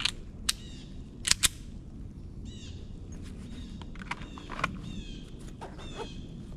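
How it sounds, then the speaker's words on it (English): Pistol shots with ball ammunition fired at a white target about 7 yards away, several sharp cracks spaced irregularly, with a quick close pair near the start, over a low outdoor background. "we're going to be shooting that white target there at roughly 7 yards, and we are loaded up with some ball ammunition"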